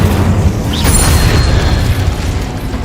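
An Incendio fire spell cast in Hogwarts Legacy bursts with a loud whooshing boom, followed by a steady rushing crackle of flames close up.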